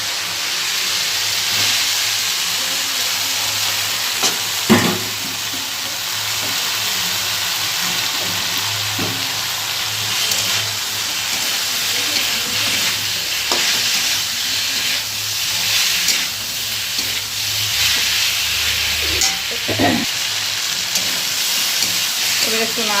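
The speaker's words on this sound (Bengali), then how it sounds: "চলো এবার লতিগুলো ঢেলে দিই।" Taro stolons (kochur loti) tipped into a hot pan sizzle and hiss steadily for a long stretch, with occasional utensil clinks and stirring, close and continuous.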